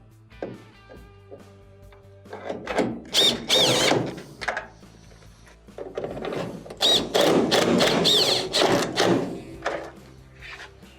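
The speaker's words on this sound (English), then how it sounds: "Reinstall our 2 1/4-inch screws." A power drill drives 2 1/4-inch screws back into the panel of a GE dryer. It makes two close, loud whirring bursts that rise and fall as each screw seats, with a faint hum between them.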